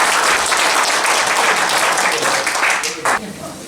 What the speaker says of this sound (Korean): 여러분 큰 박수